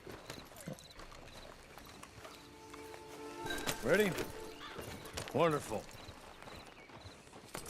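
Horse hooves clip-clop at a slow walk in the video game Red Dead Online, with a couple of whinnies in the middle, under occasional speech.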